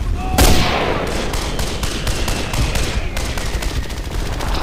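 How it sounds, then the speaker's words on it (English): Machine guns fire on a fortress fortification in a wartime strategy game, with rapid bursts of shots over rumbling battle noise and one heavy blast near the start. "starting to pepper that fortification with machine gun fire"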